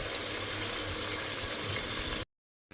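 Spices being fried down in oil in a pan, a steady loud sizzle with constant bubbling that runs unbroken before cutting off abruptly near the end.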